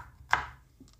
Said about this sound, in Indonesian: Lalu bumbunya bawang putih akan saya iris-iris ya